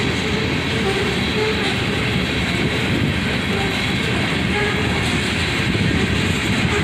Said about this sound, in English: This train was headed for AK Steel in Middletown.